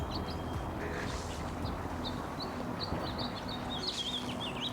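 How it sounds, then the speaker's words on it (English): Spring birdsong in Vancouver: scattered high chirps and tweets over a steady outdoor background hum, fairly distant and light. "Another sign of spring is the sound of birds."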